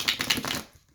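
Tarot cards being shuffled in a short, quick burst of riffling papery slaps and flutters, a few sharp snaps close by, fading to near silence at the end.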